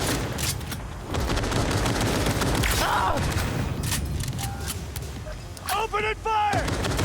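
Video game gunfire: dense, sustained bursts and booms of battle, loud and continuous, with brief shouted voices breaking through partway and near the end.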